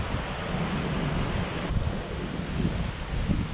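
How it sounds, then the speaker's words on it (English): A river rushing beside a mountain trekking trail on the Hampta Pass route, a steady broadband wash of flowing water with wind buffeting the microphone, close and continuous with no voices. "it's probably just walking alongside this river and a little bit of climbing"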